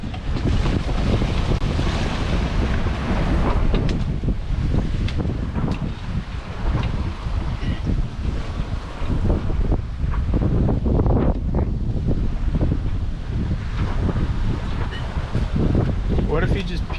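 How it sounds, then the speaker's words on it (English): Strong wind buffets a sailboat at sea, a loud, steady broadband roar of gusts and microphone wind noise over sloshing water, sustained throughout with brief faint voices underneath. "It's windy."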